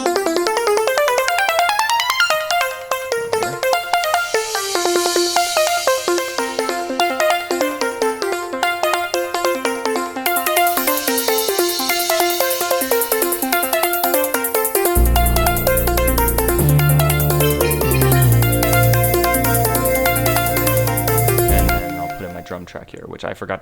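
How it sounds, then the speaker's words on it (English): Layered synthesizer part from an electronic track, sustained chords and pulsing arpeggiated notes, with a deep bass entering around the midpoint; loud, dense and continuous with no talking. "So first synth."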